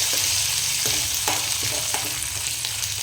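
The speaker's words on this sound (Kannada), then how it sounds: "ಟೊಮೊಟೊ ಚೆನ್ನಾಗಿ ಸ್ಮೂತಾಗಿ ಆಗೋ ತನಕ ಚೆನ್ನಾಗಿ ಅದನ್ನ ಫ್ರೈ ಮಾಡ್ಕೊತಾ ಇರಬೇಕು" Onions and tomato fry in a pan with a steady close hiss, broken by a few sharp stirring clacks of a spoon against the metal.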